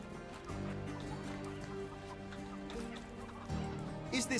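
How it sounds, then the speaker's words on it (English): A chicken clucks in Sherlock Holmes: Chapter One on a street: soft, short fowl clucks over a low, steady ambient hum, with a brighter burst near the end, and no talk. "Chicken!"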